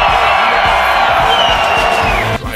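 A large festival crowd at a Lollapalooza show in Chicago cheers and whoops loudly and continuously, a dense roar of voices that drops off abruptly near the end.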